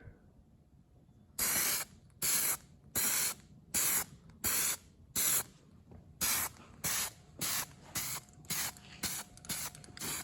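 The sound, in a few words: spray paint being sprayed on C55 valve covers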